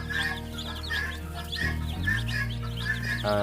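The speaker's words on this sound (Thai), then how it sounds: "สำหรับลูกไก่ ชุดนี้นะครับที่อยู่ในกล่องอนุบาลนี้นะครับ ก็อายุได้2วันนะครับ" Two-day-old chicks in a brooder box, freshly out of the incubator, chirp and cluck steadily and close by, with a low continuous hum underneath throughout.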